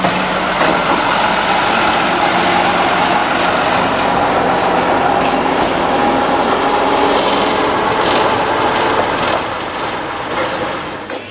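Steady loud rumble of a locomotive running round its train through a station platform on a heritage railway, engine drone holding evenly throughout and easing slightly at the end, no talk.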